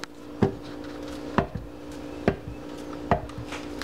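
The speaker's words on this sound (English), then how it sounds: "The reason you're slicing the bananas, it makes it easier for the blender to do its job." Knife cuts through large peeled bananas onto a cutting board for a banana soufflé, four evenly spaced crisp thunks over a low background hum.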